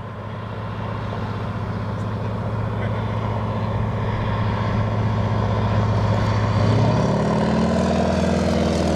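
North American AT-6 trainer making a low pass with landing gear down, a steady loud radial-engine drone that holds close and then shifts pitch near the end, with no voices.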